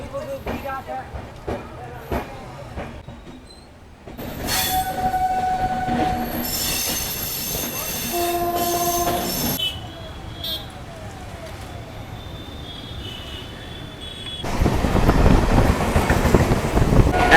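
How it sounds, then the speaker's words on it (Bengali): A train departs Kolkata Chitpur terminal with squealing wheels, clanking wagons and a horn blast, getting louder as it picks up speed; a voice speaks partway through. "একদম নির্দিষ্ট সময় আমাদের ট্রেন ছাড়লো কলকাতার"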